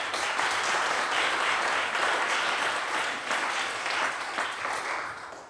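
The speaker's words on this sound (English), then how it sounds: "I was going to ask the people in the middle row to give you a big clap." Applause from the middle row of a conference audience, a dense steady wash of many hands clapping that holds loud throughout and eases slightly at the end, with no talk over it.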